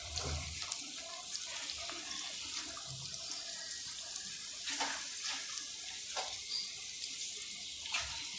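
A kitchen tap runs steadily into the sink while tea cups are washed, a constant hiss of flowing water with a few faint clinks and splashes, close and fairly quiet, no speech.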